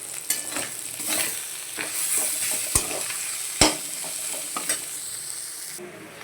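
Spices are stirred into a rohu fish kachori filling, giving a run of close scraping and stirring strokes against the pan with a few sharp clinks, over a faint sizzle and with no talking.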